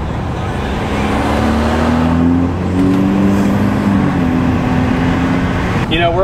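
A tuned BMW F30 sedan cruising on a freeway in Mexico, steady loud engine drone with shifting tonal whine and road and wind roar throughout, brief faint voice near the end.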